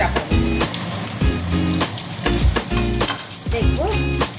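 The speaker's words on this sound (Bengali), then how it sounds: "এই 3 পিস ভাজা হয়ে গেলে আমি তারপরে কচুটা চাপাবো।" Pieces of catla fish sizzle steadily in hot oil in a home kitchen, a loud continuous crackle broken by several sharp clanks of a utensil against the pan.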